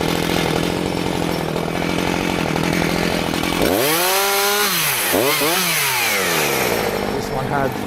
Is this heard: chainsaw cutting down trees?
yes